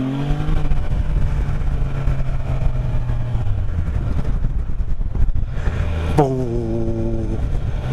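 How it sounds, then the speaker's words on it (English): Motorcycles riding by on a scenic motorcycle road in autumn, a steady loud engine drone throughout, with a sharp revving pass near the end as one bike accelerates past close by. "Nice sounding bikes."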